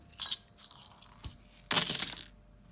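Small tarot charms cast onto a surface, giving two quick bursts of clinking and jingling metal, the second louder and longer, in an otherwise quiet room.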